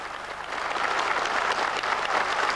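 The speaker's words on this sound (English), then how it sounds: "All the deputies then stood and applauded." Parliament deputies stand and applaud in the chamber in late December 1989, producing a broad wash of continuous clapping that swells slightly after the first half-second and holds steady.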